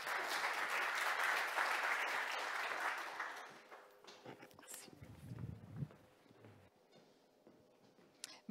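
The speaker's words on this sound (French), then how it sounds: "On l'applaudit." Audience applauds a company CEO being introduced at a Montreal business showcase event, a dense sustained clapping for about three seconds that fades into quieter room noise and scattered sounds.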